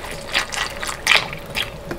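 Almond milk poured into a bowl of cereal, a close, splashy trickle with several bright bursts of liquid hitting the flakes in uneven pulses over about two seconds, with no talking.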